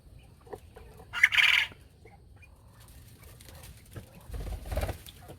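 Chickens cluck on a farm in a short squawking burst early on, followed by softer scattered clucks and rustling low in the background with no talking.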